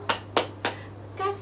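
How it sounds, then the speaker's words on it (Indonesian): A classroom "tepuk wow" clapping chant: three sharp, evenly spaced claps, then a short voiced tone follows. "Kita kasih dulu tepuk wow"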